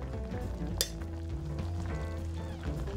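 A pot of oyster and pork kimchi hot pot broth with added sake heats on a burner toward a boil, giving a steady low bubbling sizzle with one brief clink of utensils early on.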